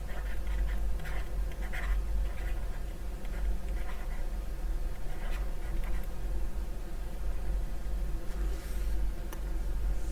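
A marker writes steadily across a surface for about ten seconds, giving a continuous scratchy squeak over a constant low hum, with no talking.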